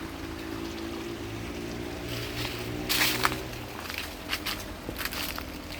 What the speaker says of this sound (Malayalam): നമ്മുടെ സ്ഥലത്തിൻ്റെ സൈഡിൽ കൂടെ ഒഴുകുന്ന തോട് ഇതാണ്